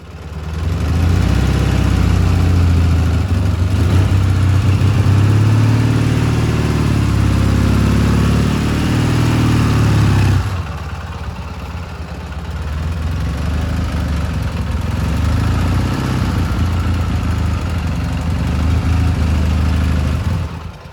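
A BMW-based Dnepr K-750 motorcycle engine runs steadily and loudly up close, with a deep, throbbing low-end rumble that eases slightly about halfway through and then holds at a lower, even idle.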